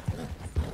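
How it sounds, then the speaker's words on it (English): Horse hooves clip-clopping in Red Dead Redemption 2, two heavy low thuds about half a second apart over a soft steady rumble, close and moderately loud with no talk. "We weren't galloping this hard the entire time. I let her lope a little bit."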